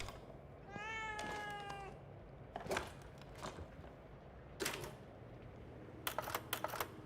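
In The Evil Within 2, a cat gives a clear, drawn-out meow near the start, followed by sharp clicks and snaps in short bursts against a quiet background.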